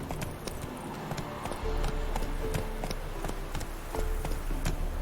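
Roach, a horse in The Witcher 3 video game, gallops with steady rhythmic clip-clop hoofbeats, moderately loud and continuous, with faint ambient game sound underneath and no speech.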